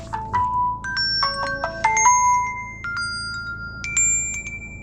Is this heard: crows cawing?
no